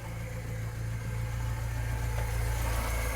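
A Bedford CF van's engine runs at a steady, close rumbling idle with even, low throbbing pulses and no pauses.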